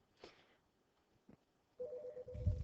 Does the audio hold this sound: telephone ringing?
yes